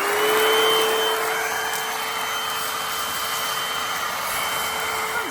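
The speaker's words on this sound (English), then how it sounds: "let's suck up some bugs." A vacuum cleaner runs steadily and loudly inside a van, sucking up bugs, with a constant high whine and airy roar that holds throughout and shifts pitch slightly near the end.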